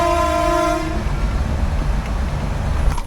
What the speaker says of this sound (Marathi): इथलं एक मुख्य आकर्षण म्हणजे या मिनी ट्रेनमधला एक आगळा प्रवास.